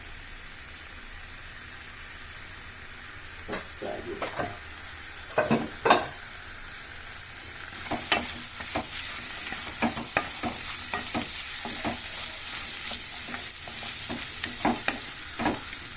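Sliced bitter gourd frying in a pan with turmeric, a steady close crackling sizzle broken by sharp spoon scrapes and stirring clatter at irregular moments, with no talking.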